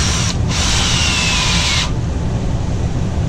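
A drill spins a barrel trimmer against a wooden pen blank, a loud, steady high whine lasting under two seconds with a brief dip near the start, then a continuous low rumble carrying on alone after it stops.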